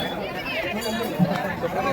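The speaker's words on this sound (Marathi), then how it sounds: "गर्दी फुल आहे आज" Busy crowd chatter at the Halsiddhanath temple in Appachiwadi, an indistinct babble of many voices close around, with a nearer voice talking over it.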